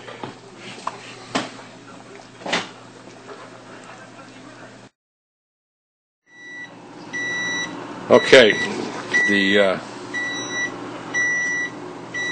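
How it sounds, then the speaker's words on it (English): A kitchen timer beeps for cooking spaghetti, a repeated series of electronic tones arriving after a brief silence, mixed with clattering kitchen sounds and a voice speaking. "timer's going off for spaghetti"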